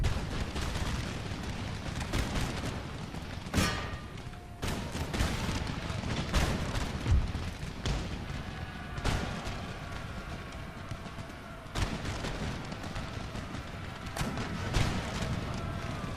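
Cannon fire from an artillery barrage in Empire: Total War booms out in repeated heavy blasts at uneven intervals over a continuous rumbling battle bed, the thuds sometimes clustered close together.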